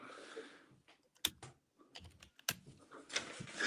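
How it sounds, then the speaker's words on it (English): Typing on a split computer keyboard, with irregular close key clacks in short bursts and pauses, including a few sharper, louder strokes. "are you coding on your new split keyboard?"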